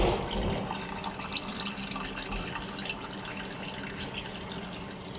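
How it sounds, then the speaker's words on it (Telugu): Water pours steadily into a mixer jar for a spice remedy, a close continuous splashing fill without talk. "వాటర్ వేయడం చూపిస్తాను. మళ్ళీ కొద్దిగా వాటర్ యాడ్ చేసుకుని మళ్ళీ మిక్సీ పట్టుకుందాం అండి."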